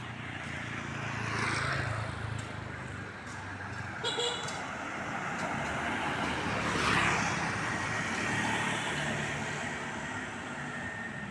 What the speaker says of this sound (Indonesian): Coba sambil didengarkan suara-suara kendaraan yang lewat